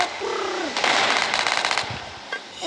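Rapid bursts of SMG fire in a video game crackle in a fast rattling volley, loud and close, and fade out after a couple of seconds.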